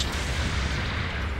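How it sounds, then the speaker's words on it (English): A grenade blast from Mobile Suit Gundam Battle Operation 2 gives a dense, heavy boom and rumble that fills the short moment loudly and close, with no talk over it. "I do have a grenade, though. Grenade!"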